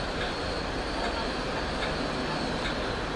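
Merseyrail electric multiple unit train at a station platform, a steady loud rumble and hiss of wheels and motors running continuously without a break, with no speech.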